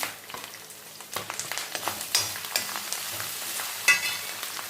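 Curry leaves dropped into hot oil with spice paste, frying with a crackling sizzle and sharp spits, interspersed with stirring scrapes, close by and alone.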